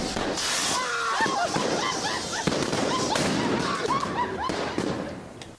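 Fireworks go off in a rapid crackling barrage of sharp bangs and pops with whistling streaks, close and loud, with voices mixed in.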